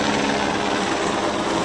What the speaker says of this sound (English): Give me a sec for that helicopter.